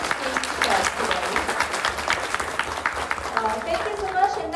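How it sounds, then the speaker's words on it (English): Steady applause from an event audience for the day's speakers fills the room, a dense even wash of clapping with voices murmuring and talking underneath throughout. "a big round of applause for our very kind speakers today"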